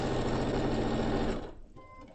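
A sewing machine backstitches the seams of a small bag, running as a steady close whir for over a second before cutting off into near quiet.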